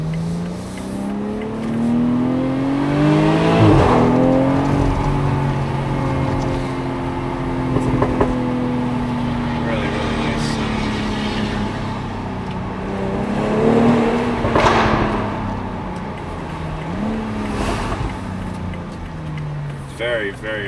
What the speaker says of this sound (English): Very, very, very cool exhaust.